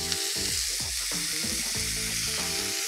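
Water poured into a very hot pan of white beans, bursting into loud, continuous sizzling and crackling steam with faint stirring scrapes, close up and steady throughout.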